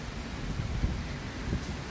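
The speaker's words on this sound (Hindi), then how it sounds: "तूफान और समंदर की गड़गड़ाहट।" Heavy rain and a roaring, churning sea during a coastal storm at Digha blend into a constant broadband roar with deep low-end surges. It sounds loud and close, with no break.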